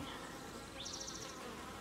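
Honeybees buzzing steadily at a low level while bringing in pollen to a newly installed colony, with a brief higher-pitched whine drifting past, faint and nearby.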